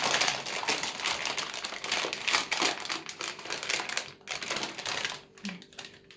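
Paper crinkling and rustling continuously at close range while dough is wrapped for cookies, dense crackly texture with irregular bursts, no talking.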